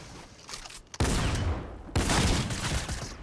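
Loud, dense bursts of gunfire from the video game Fortnite, two heavy volleys kicking in about a second apart and sustaining to the end, with a quieter stretch of game sound before them.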